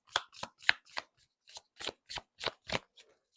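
A deck of tarot cards is shuffled by hand, giving about a dozen quick, soft riffling bursts in an uneven rhythm, close and quiet with no talking.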